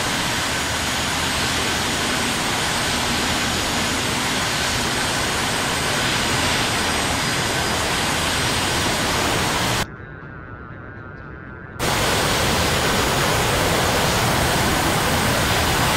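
Jet aircraft engine in the DCS flight simulator, a loud, steady broadband roar that fills the whole span, cutting briefly to a muffled lull before resuming at full strength.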